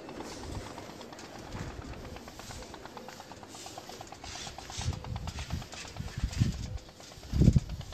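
Breeder pigeons shut inside a loft, cooing softly under a steady background hum, with a few louder coos near the end.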